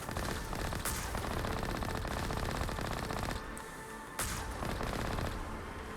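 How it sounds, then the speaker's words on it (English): Rapid automatic gunfire from turrets in the video game Mass Effect chatters continuously, dense and loud, with a brief lull before bursts resume, like turrets firing nonstop. "there's like 2 other turrets that are firing at me"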